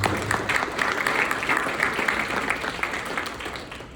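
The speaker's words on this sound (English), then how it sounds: "let's recognize Dr. Steele with a big round of applause" A room full of people claps loudly and continuously for a sponsor at a school board candidates forum, a thick, even roar of applause with individual claps popping through.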